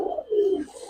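A single short, low cooing call from Giribaz or coloured pigeon, close and clear, lasting under a second with no voices.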